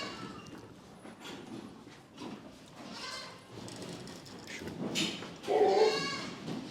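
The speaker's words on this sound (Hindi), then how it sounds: "ये माशाल्लाह असगर भाई का बकरा है" Goat bleats on a goat and agro farm in Khed, Ratnagiri, with a loud bleat near the end over a busy farmyard background and some faint talk.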